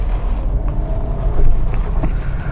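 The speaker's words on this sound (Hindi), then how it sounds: "अब मैं इसको फर्स्ट गियर में डाल के आगे चला रहा हूँ।" A Maruti Suzuki Swift with a 1.2 K-series engine pulls away in first gear, its low engine drone steady and close, swelling slightly midway, mixed with rumbling road or wind noise and no talking.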